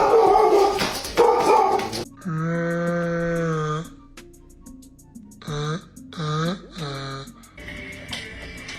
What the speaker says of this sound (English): Rocco the Yorkie, and almost every single Yorkie I do does not like their front feet being touched